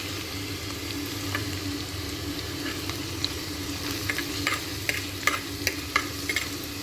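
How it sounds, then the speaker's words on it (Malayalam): Garlic and ginger frying in oil for a Kerala fish curry, a steady, moderate sizzle that picks up a series of crisp spatula clicks and scrapes toward the end. "ഇനി അത് നല്ലപോലെ നമ്മൾ ഇളക്കി കൊടുക്കേണ്ടതാണ്"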